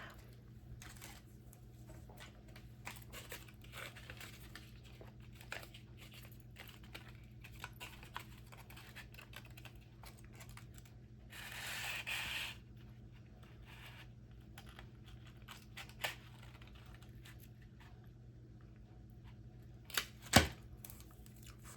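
Adhesive tape pulled from a roll and torn off at close range: a soft rasping pull midway, then a sharp quick rip near the end, with quiet handling and tapping noises between.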